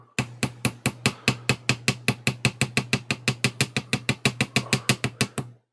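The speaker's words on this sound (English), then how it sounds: "hammer it flat like that" A hammer pounds a Nintendo Switch heatshield flat against a metal block, about thirty sharp ringing metallic strikes in a fast, even rhythm, loud and close with no talking.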